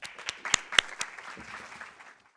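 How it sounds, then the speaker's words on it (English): Scattered audience applause at a university careers panel greets the provost. A handful of sharp, distinct claps come first, then soft, thinning clapping fades out within a couple of seconds. "Let's give Provost Kornbluth a rounding of applause."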